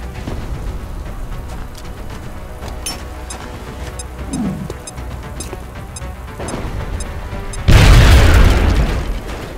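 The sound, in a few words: grenade explosion in XCOM video game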